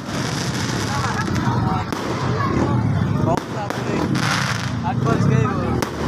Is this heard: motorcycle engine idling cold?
no